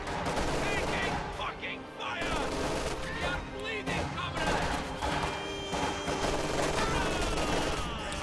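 Rapid bursts of grenadier gunfire in a strategy video game battle, with crackling volleys and thuds layered densely over continuous game action and distant explosions throughout.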